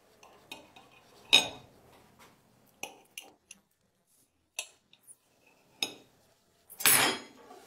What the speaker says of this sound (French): Les amis, je vais la couper ici pour rendre un petit morceau.